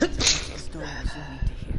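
One sharp sneeze erupts at the start inside The Outer Worlds game, followed by someone speaking.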